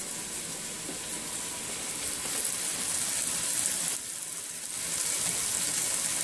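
Pounded lean meat sizzles steadily as it fries on top of onions in a pan, a continuous close hiss that swells slightly in the second half.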